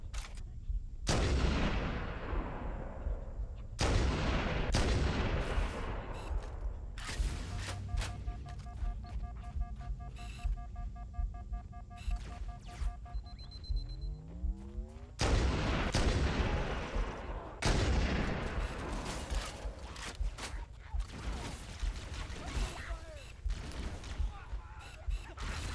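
Gunfire in Halo: Combat Evolved comes as heavy, booming game shots, several loud blasts spaced a few seconds apart, with a stretch of mechanical beeping and a rising whir between them over a constant background rumble.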